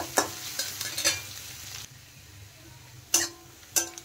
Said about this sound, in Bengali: এখন পেঁয়াজটা একটু হালকা ভেজে নেব।